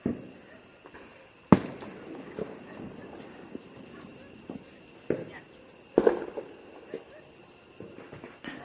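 Diwali firecrackers pop outdoors at night, with a few sharp, fairly distant bangs spaced out among softer cracks, while people talk in the background.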